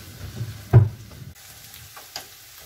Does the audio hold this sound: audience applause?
no